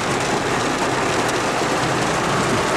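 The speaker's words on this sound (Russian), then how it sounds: "слышите, какой у нас дождь" Steady, dense rain hiss fills the whole stretch, a broad continuous wash of noise with no pauses, fairly loud and close.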